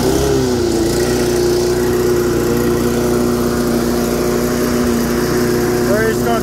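Homemade pressure-washer-engine push mower with automatic choke, pull-started and then running: a steady, loud mid-pitched engine drone holds throughout at close range, with a brief rising rev near the end.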